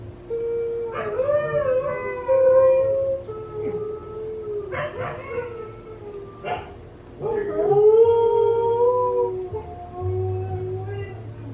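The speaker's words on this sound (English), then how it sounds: "crazy howling." Close, loud howling from a husky: a series of long wavering wails broken by brief pauses and a few sharper yelps.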